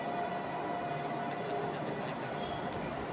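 A train at Sarkhej railway station in Ahmedabad gives a steady, moderately loud rumble with a faint high tone on top, and a brief sharp sound comes near the end, with no voices.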